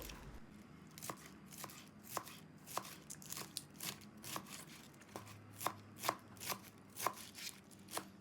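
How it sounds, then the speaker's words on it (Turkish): Steady knife chopping of cabbage on a board, quick repeated cuts in an uneven rhythm, close and clear with no talking. "Lahana piştikçe kendini çekecek. O yüzden biraz daha doğruyorum."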